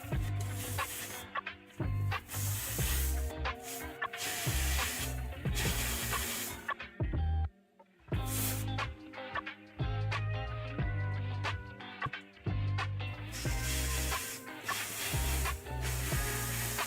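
A spray can hisses paint onto a miniature figure in several long bursts, close and steady, with a short silent break midway between passes.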